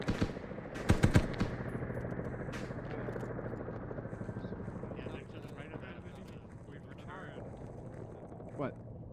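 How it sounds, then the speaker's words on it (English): Bursts of automatic gunfire from the military shooter Arma 3 crackle near the start, then a steady engine-like drone continues underneath with people talking over it and a faint lone shot near the end. "We're getting shot at from the southwest."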